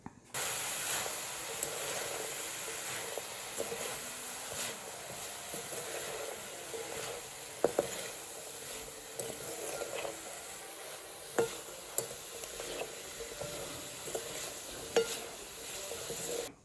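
Pea eggplant curry tempered in a pan with chilli powder and salt, sizzling steadily while a spoon stirs and scrapes, with a few sharp clinks against the pan.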